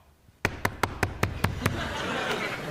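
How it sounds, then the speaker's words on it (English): Seven crisp knocks on a door or hard surface come in a steady, evenly spaced rhythm, close and loud, then give way to a low murmur from a studio audience. "I've been working on my knock."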